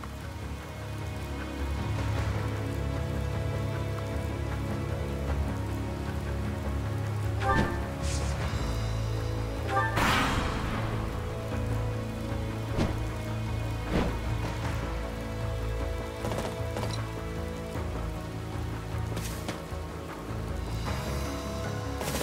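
Steady rain falls throughout a battle scene in the Fire Emblem: Three Houses video game, a continuous hiss under a low, sustained musical drone, with a few brief sharper accents breaking through.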